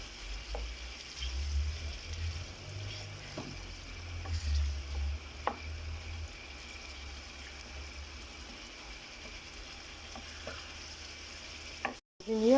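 Fried rice made with frozen vegetables cooking in a pan, a soft continuous frying hiss with occasional light stirring scrapes and a low rumble, fairly quiet and steady, no speech.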